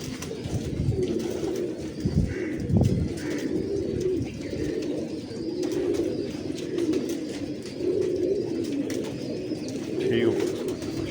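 Pigeons in a breeding loft coo repeatedly, overlapping throaty low calls rising and falling nearby, with some human voices underneath.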